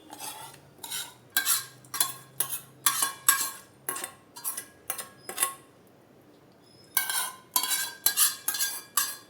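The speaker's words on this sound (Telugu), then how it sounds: "ఇప్పుడు మనం వేయించి పెట్టుకున్న తాలింపు కూడా ఇందులో యాడ్ చేసేసుకుందాం" Fried tempering is stirred into yogurt for dahi vada, making a series of distinct spoon scrapes and clinks against the bowl in bursts. A short quiet pause comes before another quick run of strokes.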